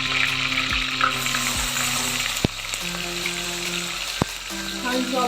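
Onions and curry leaves frying in hot oil for Maharashtrian misal pav, a steady sizzle with a few sharp clanks of a spoon against the pan and a low hum in the background.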